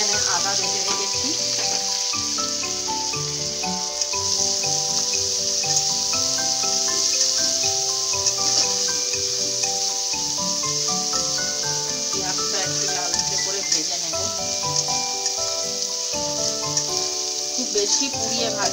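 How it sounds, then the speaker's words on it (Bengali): Onion sizzles in hot oil in a pan, a continuous bright frying hiss under background music with a melodic instrumental line, loud and unbroken throughout. "পেঁয়াজটা দিয়ে একটু পেঁয়াজটা ভাজা ভাজা মতন হবে"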